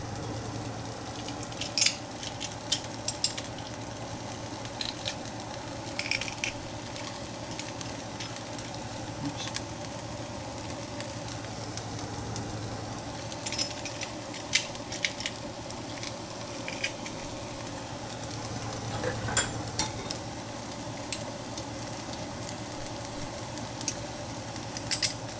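Peppers and garlic frying in a pan for a smoky chicken fried rice, a steady low sizzle and crackle with small pops and occasional stirring scrapes, fairly quiet and constant.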